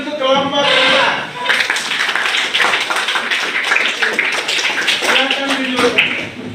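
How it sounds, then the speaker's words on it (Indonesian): An audience claps for a presenting group in a classroom teaching session, a brief patter of hands that rises and fades while voices talk over it. "kita beri tepuk tangan untuk kelompok 5"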